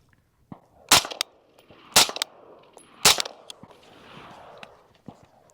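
Three sharp rifle shots from a suppressed 5.56 rifle crack out about a second apart, loud and close, with faint shuffling and handling noise between them.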